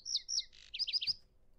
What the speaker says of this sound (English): I've recorded five different bird noises